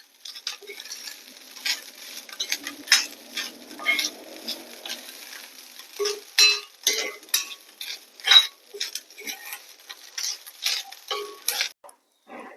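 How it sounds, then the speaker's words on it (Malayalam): Grated coconut is dry-roasted in a pan and stirred, producing a run of irregular close scraping ticks and soft sizzling patter over quiet gaps. "ഇതിലേക്ക് ചേർക്കുന്നത് 2 കപ്പ് തേങ്ങയാണ്. അതൊന്ന് വറുത്തെടുക്കണം."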